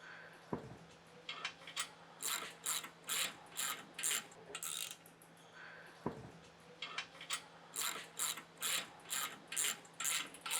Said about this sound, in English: Grab our 9/16 socket, and we can tighten these up.